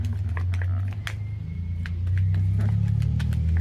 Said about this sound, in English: You hear that car in the background?